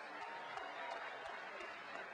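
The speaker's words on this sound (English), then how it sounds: "Tell me what you think by a hand of applause." Faint, steady audience applause fills the space as a continuous wash of distant clapping, with no voices clearly standing out.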